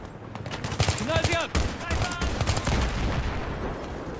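Battlefield 3 gunfire, a dense stretch of rapid overlapping shots and bursts with a brief voice cutting in near the start, the barrage continuing steadily to the end.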